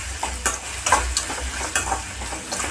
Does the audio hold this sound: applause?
no